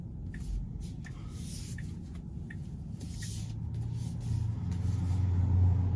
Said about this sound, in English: Now right now it's been a smooth ride, you know, the rear-wheel drive.